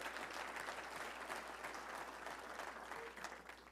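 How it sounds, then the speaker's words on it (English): Steady applause from a luncheon crowd at a football touchdown club, honoring an ASU coach; dense continuous clapping at a constant level for several seconds, tapering slightly at the very end, no talk over it. "that's worth a round of applause"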